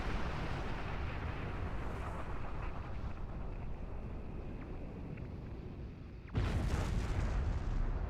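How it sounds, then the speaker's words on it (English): A large enemy starship explodes in Star Trek Online, a loud broadband blast bursting in near the end over a low, steady rumbling game ambience, with no talk. "That was quite an explosion. Probably from the Thalaron weapons carried aboard the ship."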